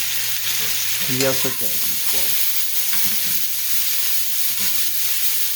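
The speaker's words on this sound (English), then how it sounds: "So I'm going to saute this until it starts to get, a little done" Onion and mushrooms sauté in a pan, giving a steady frying sizzle with occasional stirring scrapes. Someone speaks briefly over it.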